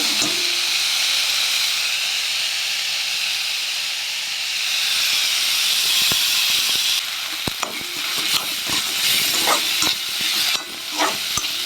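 Banana stem and rice stirred and frying in a wok hiss and sizzle steadily close up, with scraping stirs and clacks building toward the end as water hits the hot pan.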